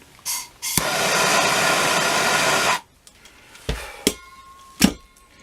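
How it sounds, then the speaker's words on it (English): A propane torch heats the end of a rope, giving a steady, loud roaring hiss for about two seconds, followed by a few sharp knocks and clicks in a quiet room. "Then I like to take the propane torch."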